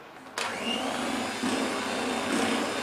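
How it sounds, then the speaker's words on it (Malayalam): An electric beater whirs steadily through mango ice cream mix made with mango puree, a close continuous motor drone that holds an even pitch with slight surges in load. "ജസ്റ്റ് ഞാൻ ബീറ്റർ വെച്ച് ഒന്ന് മിക്സ് ചെയ്തിട്ടുണ്ട്"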